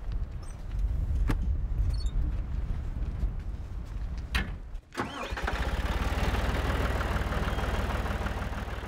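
A tractor engine on a North Sea island farm turns over and settles into a steady, close, rumbling idle that runs without pause through the second half.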